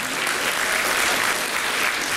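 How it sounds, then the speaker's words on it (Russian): An audience at a children's variety concert applauds, a dense, steady burst of many hands clapping that fills the room without pause. "окажите нам аплодисменты"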